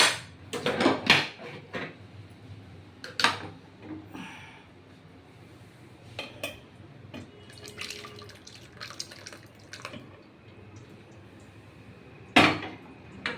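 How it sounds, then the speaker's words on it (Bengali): Tomato juice poured through a strainer, with scattered drips and splashes of liquid and a few clinks of a metal utensil against the bowl, close up and without talk. "এবার আমি পুরোটা ঢেলে দেবো"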